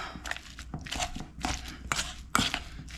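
Cooked potatoes being mashed with a splash of half and half, with repeated soft squelching presses and a few sharp knocks of the masher against the bowl, close and steady, no talking.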